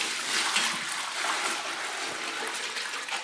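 Milk leaks from the nozzle of a Surge bucket milker while Jersey cows are milked, a soft continuous trickle and splatter heard close up, fairly quiet and steady.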